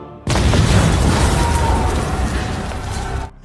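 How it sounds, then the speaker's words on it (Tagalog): A car bomb explodes inside a palace compound in a film, a sudden, very loud broadband blast that roars on for about three seconds before cutting off into quieter rumble. "lihim na nagtanim ng bomba dito. Pumasok ang sasakyan sa loob ng palasyo at sumabog"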